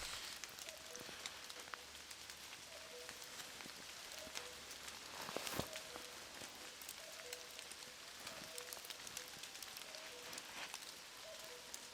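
Steady rain falling in a forest, a continuous dense patter of drops on leaves and ground, with a few louder close drips standing out, heard alone without voices.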